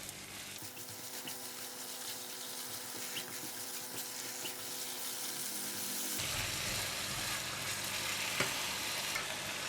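Prawns stir-fry in a pan with chilli garlic oil, oyster sauce, sugar and sesame oil, giving a steady close sizzle with stirring scrapes that grows louder and fuller partway through.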